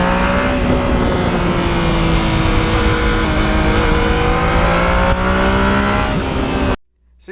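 A 2020 Yamaha MT-09 motorcycle engine revs loud and close while riding, pitch climbing in steady sweeps through the gears before cutting off abruptly near the end.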